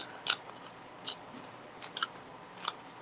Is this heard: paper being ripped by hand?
yes